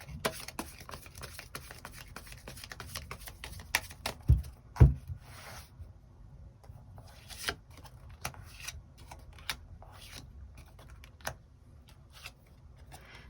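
Tarot cards being drawn and handled during a reading, soft dry clicks and brief shuffling taps scattered irregularly across a quiet room, with a couple of louder knocks near the start.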